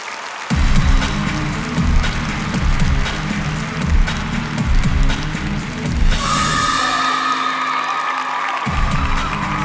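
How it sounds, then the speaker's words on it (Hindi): A crowd applauds, whoops and cheers loudly, kicking off a school dance performance, with claps and shouts running throughout and a brief drop in the low roar near the end. "दोस्तों जोरदार तालियां हो जाएं"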